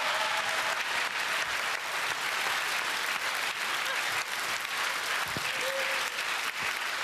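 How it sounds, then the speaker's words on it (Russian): A studio audience applauds in a stormy ovation, with loud, dense, sustained clapping that runs unbroken through the whole clip and no clear speech. "Бурными овациями, так сказать."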